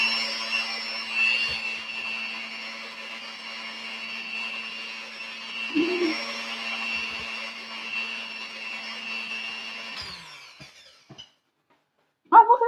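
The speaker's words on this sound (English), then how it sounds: "I'm not sure if this is mixed well enough, but I just used the hand mixer" An electric hand mixer whirs steadily as it beats marshmallow cake frosting, with a constant motorized hum that cuts off near the end, followed by a few brief clatters.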